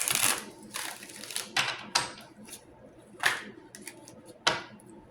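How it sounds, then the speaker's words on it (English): Tarot cards are shuffled by hand, a run of sharp papery riffles and slaps at uneven intervals, close and fairly quiet, with no talking. "let's shuffle"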